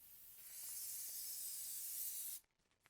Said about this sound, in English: this is about how much I spray it for this size piece.